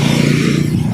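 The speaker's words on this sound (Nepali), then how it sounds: "र गाडीहरू गएको आएकै छ" Steady, loud road traffic rushes past near a TVS showroom at Ranipul, with motorcycle and scooter engines droning together in one continuous wash of noise.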